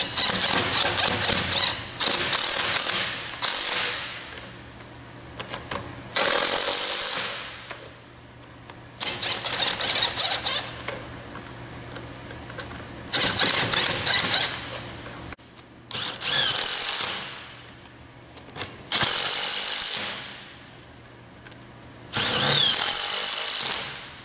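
A power tool tightens nuts on Plategrip fasteners during installation, sounding in several loud bursts of a few seconds each, separated by quieter pauses, with a high whine at each burst.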